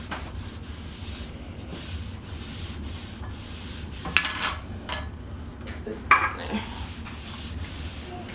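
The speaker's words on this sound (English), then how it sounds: "all you do is just pretty much just keep wiping it and just kind of even it out, and it'll start to soak into the wood" Cloth wiping stain across a wooden coffee table gives a steady, soft rubbing hiss with faint scuffs, plus two louder knocks or clatters partway through.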